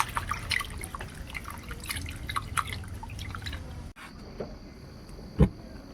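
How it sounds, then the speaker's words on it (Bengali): Raw chicken, earlier soaked in vinegar, is rinsed under cold running water in a home kitchen, with scattered drips and splashes, then a pause and a single louder splash near the end. "এবার একটু আমি ঠান্ডা জল দিয়ে ভালো করে ধুয়ে নেব"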